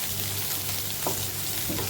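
Cumin seeds and onion fry in hot oil for a rice dish, a loud steady close sizzle with faint stirring scrapes and no talk.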